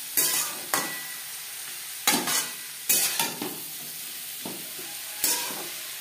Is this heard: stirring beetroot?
yes